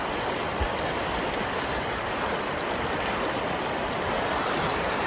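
The Rupin River flows toward its waterfalls with a constant, broad hiss of running water, near and even in level, with no talking over it.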